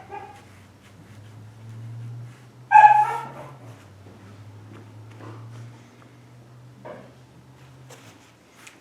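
Very young puppies born in October whimper and yip in short, high squeaks over a low steady hum, with one louder yelp standing out midway and scattered faint whines after.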